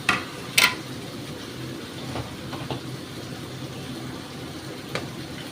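Gathi kochu and potato chunks dropped into a pot of spiced masala and stirred, with a couple of clattering thuds at the start and occasional metal spoon scrapes over a low cooking hiss, no talking.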